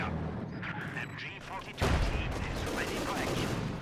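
A Panzer IV tank fires in the Company of Heroes 2 strategy game with one sharp, heavy blast midway, set against a continuous battlefield rumble and scattered gunfire, while a voice talks over it.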